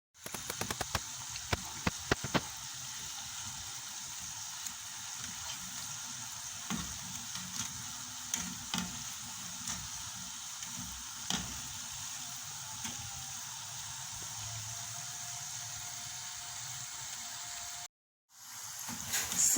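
Donuts fry in hot oil with a steady, crackling sizzle, and brief pops and bursts rise above the bubbling now and then.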